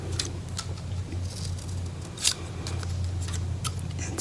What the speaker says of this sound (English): pinch it together, cut the triangles out, and then snip that apart